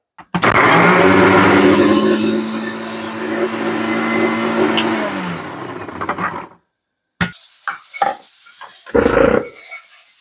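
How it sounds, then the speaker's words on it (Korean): A kitchen blender loudly grinds pineapple, onion, apple and pear, a steady motor whir lasting about six seconds before cutting off, followed by brief clatter and handling noises. "파인애플, 양파, 사과, 배 갈아고 올게요. 믹서기에 갈아 올게요."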